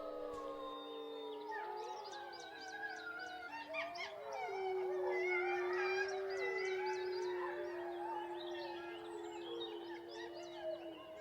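Wolf pack howling in response to a human howl imitation at night, several sustained overlapping howls rising and wavering together in a chorus, fairly close and loud, continuing throughout with no talk.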